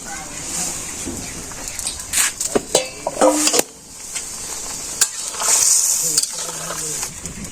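Cauliflower is added to a curry on a clay stove, with soft sizzling in the pan, utensils clinking and scraping against it, and a voice talking over the cooking.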